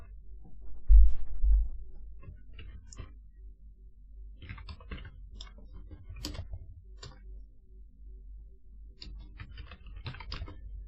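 Scattered keyboard keystrokes, light and irregular, coming in small clusters with pauses, close by over a quiet low rumble.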